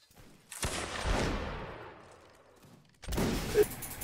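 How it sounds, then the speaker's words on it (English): A video game pistol fires two sharp, loud shots about two and a half seconds apart, each trailing off into a long echoing decay with no talk. "Oh, that pistol shot."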